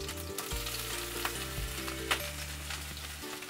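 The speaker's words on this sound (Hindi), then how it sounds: "अब ये तेल गर्म हो चुका है, उसमें मैं ऐड कर देती हूँ ये 3 से 4 कली चॉप की हुई लहसुन की है।" Chopped garlic and chilli frying in hot oil for a tofu vegetable stir fry, giving a steady close sizzle with a few sharp spits and stirring scrapes.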